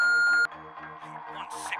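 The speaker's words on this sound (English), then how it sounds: "At the beep, you know what to do." A telephone answering machine gives one short, clear electronic beep, then the line falls to a quiet background hum.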